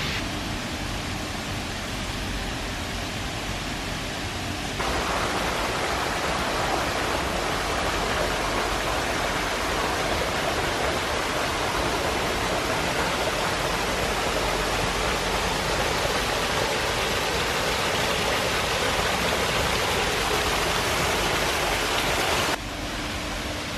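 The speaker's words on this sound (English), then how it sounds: "There's a nice little waterfall behind there." A small waterfall near a tributary of the River Irwell in Lancashire, a loud, steady, close rushing roar of falling water with no voices.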